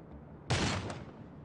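A single shotgun blast in the zombie survival game Dawn of Zombies, one sharp burst with a short decaying tail, fairly faint overall.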